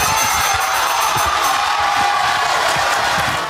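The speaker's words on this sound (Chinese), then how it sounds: "吃瓜群众看热闹不嫌事儿大，热烈鼓掌欢迎男友出场" An audience cheers, whoops and applauds in a steady, dense roar at a staged relationship-drama show as a boyfriend is welcomed on stage. It is loud and continuous throughout, with no clear speech.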